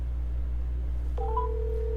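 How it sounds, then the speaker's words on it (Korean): A phone starts a call: steady low hum, then at about 1.2 seconds a tone rises and settles into a sustained ringback or dial tone, no talking. "전화해보도록 하죠."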